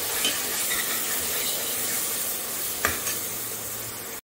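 Mutton keema masala frying in ghee is stirred in a pan, with a close, steady sizzle under scraping spoon strokes and a brief clink near the end.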